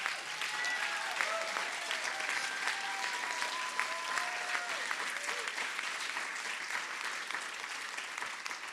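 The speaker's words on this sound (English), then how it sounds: "Please join us in one last round of applause for our Hero Everyday Award recipients." A room full of people applauds steadily for award recipients at a community awards event, the sustained clapping holding an even level throughout, with a few faint voices and tones surfacing briefly beneath it.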